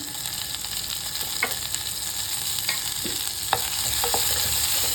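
Green chillies, curry leaves and onion sauté in a pan with a steady close sizzle. Occasional clinks and scrapes of stirring are heard, and no voice.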